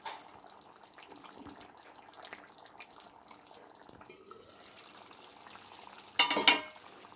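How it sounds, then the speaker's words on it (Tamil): A pan of curry gravy bubbles and simmers quietly, with soft irregular pops, then a louder clattering burst near the end. "நல்லா கொதிக்க ஆரம்பிச்சிருச்சு."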